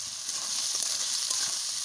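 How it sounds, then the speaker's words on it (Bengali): Chopped onion fries in hot oil, giving a soft, steady, close sizzle with light crackling for a moment, with no one talking. "আমি পেঁয়াজটা এবার তেলে দিয়ে দেবো।"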